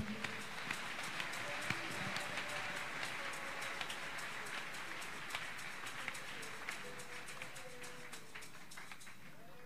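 A church congregation applauding, a steady, dense patter of many hands heard as an even wash from start to finish, with faint voices mixed underneath.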